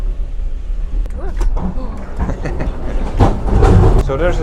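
Rumbling, rattling interior noise of a moving train carriage in Russia with faint clicks and clunks, while a person talks over it.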